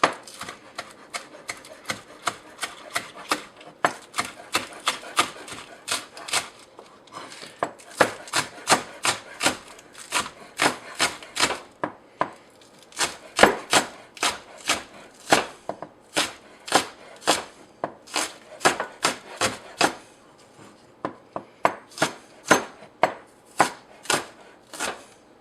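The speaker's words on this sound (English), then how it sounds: "I'm going to just slice those up" A knife slices green onions (scallions) into small rings on a board, a long, steady run of crisp, close chopping taps, mostly even in rhythm with a few brief pauses and no talking.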